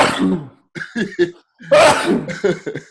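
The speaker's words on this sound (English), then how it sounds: "Wait, was that sneeze?" A few sharp bursts of a sneeze or cough, close and loud, separated by short pauses.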